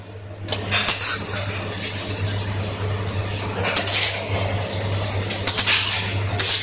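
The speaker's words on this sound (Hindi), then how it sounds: "इसे अच्छे से मिक्स करें।" Sweet vermicelli (kimami siwai) being stirred with milk in a pot, with a spoon clinking and scraping against the metal in irregular bursts over a steady low hum.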